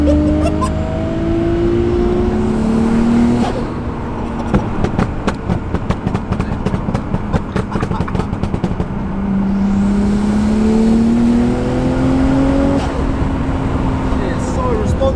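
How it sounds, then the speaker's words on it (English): A Nissan R32 GTR twin-turbo accelerates hard. The engine note rises and falls through gear changes, and a burst of rapid pops and crackles comes in the middle. It is loud and close from inside the car, and people talk over it. "Tom's going to be taking me out in the R32 GTR."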